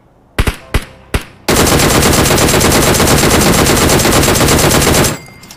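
Machine gun fire in a video game: a few sharp separate shots, then a loud, sustained automatic burst of rapid fire lasting several seconds before cutting off.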